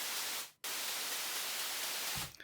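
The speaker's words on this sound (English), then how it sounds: "this white noise layer, it sounds like this." A white noise synth layer from an Avicii "Levels" remake plays as a steady, loud broadband hiss. It cuts out briefly near the start, then returns and holds until a soft thump at the end.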